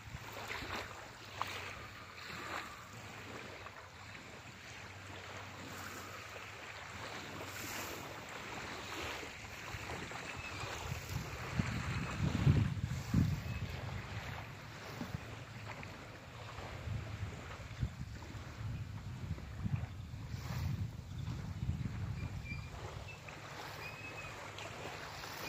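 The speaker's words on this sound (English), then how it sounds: "So like, I love how I hear this water" Gentle water lapping against a boat, steady and soft with light wind, a slightly fuller swell midway.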